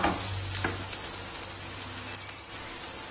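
Plenty of onions frying in a pan for spring rolls, a steady close sizzle with occasional stirring scrapes and small crackles.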